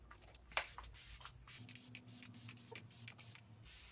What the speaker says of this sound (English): I'm obsessed with this setting spray. I love the mister as well.